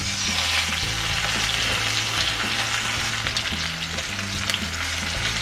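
Chicken pieces sear in a frying pan for creamy garlic chicken, a steady loud sizzle running throughout with a low hum beneath and brief clicks of handling.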